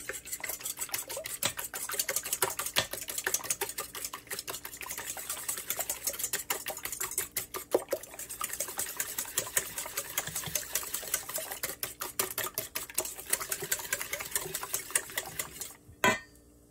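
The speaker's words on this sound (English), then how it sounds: "they get beaten with the whisk." Eggs for a tuna loaf are beaten with a whisk, producing a fast, steady rattling clatter of wire against the bowl, close and fairly quiet, running continuously before a final knock.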